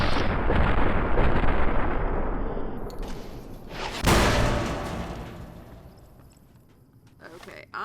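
Sniper fire from the game Fallout: New Vegas, with loud booming shots and a sharp crack near the middle amid rumbling game noise, while a voice talks over it.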